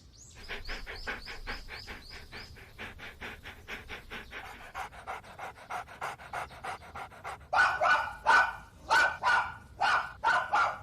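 Three anime dogs pant in quick, steady rhythm, then break into a run of loud, close barks near the end, with no talk over them.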